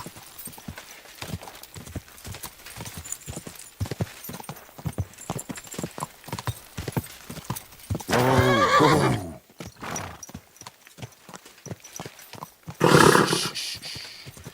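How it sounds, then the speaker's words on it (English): Rapid, steady clip-clop of horse hooves runs throughout, and a loud whinny rises over it around the middle, followed by a second shorter neigh near the end. "Easy, good horse."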